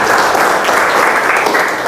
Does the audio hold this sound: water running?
no